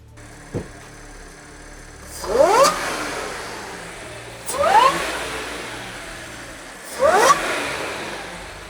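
An Audi S4 fitted with a titanium cold air intake revs three times nearby, each blip rising sharply to a loud roar before falling back to a low idle between pulls.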